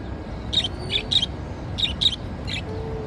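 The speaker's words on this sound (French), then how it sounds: "Au revoir les oiseaux." Small birds chirp in several short, bright bursts spaced across the moment, close by and over a low background rumble, with no talking.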